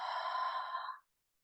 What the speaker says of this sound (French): une grande expiration par la bouche